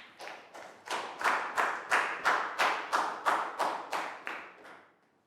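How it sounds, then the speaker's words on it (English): A classroom group claps in unison, roughly a dozen crisp, evenly spaced claps at a steady beat, loud and close, each with a short ringing decay, with the final clap fading out. "big round of applause"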